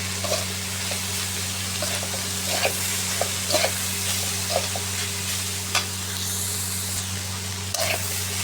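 Vegetable bhaji with onion and chili frying dry in a pan, a steady sizzle with occasional stirring scrapes and taps, heard up close over a constant low hum.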